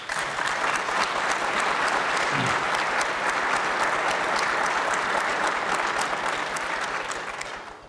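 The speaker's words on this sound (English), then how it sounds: "will everyone please give our families a round of applause to which they deserve" Sustained applause from a graduation ceremony crowd honoring families, steady and full for several seconds before tapering at the end, with almost no talking.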